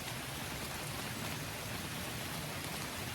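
Steady rain falls at 2pm, a dense, even hiss that runs unbroken throughout with no voices.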